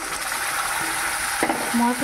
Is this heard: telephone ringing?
no